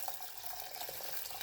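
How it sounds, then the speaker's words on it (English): Hot, freshly boiled water pours into a pot for homemade chai, a soft, steady hissing stream heard close and alone. "I'm putting it in, and it is actually a quart of water."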